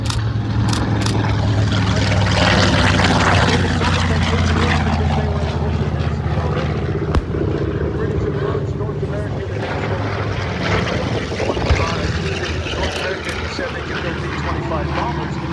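A World War II Curtiss P-40 fighter flies at an air show demonstration, its propeller engine giving a steady, loud drone throughout, with a voice talking over it.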